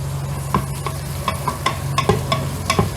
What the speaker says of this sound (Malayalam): ലൈറ്റ് ബ്രൗൺ ആകുന്നത് വരെ നമുക്കിതൊന്ന് ഇളക്കി കൊടുക്കാം